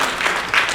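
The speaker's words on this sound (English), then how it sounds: "join me in giving a round of applause" Brief burst of audience applause at a sustainability event, steady dense clapping at moderate level with a slight swell near the end.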